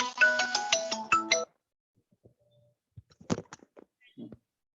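A mobile phone ringtone plays a bright, repeating melody for about a second and a half at fair volume, then cuts off, followed by scattered quiet thumps and brief faint voices in a classroom.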